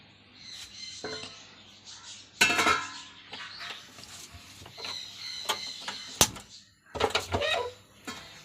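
A lid set onto a cooking pot of mango curry simmering with turmeric, chilli powder, salt and water, giving several sharp close clanks and clinks among lighter kitchen rattles.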